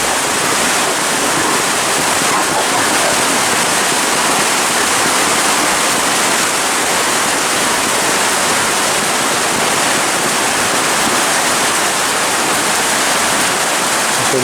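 Heavy rainwater rushes through a small ditch, a dense, unbroken roar of flowing water, loud and close, with no pauses throughout.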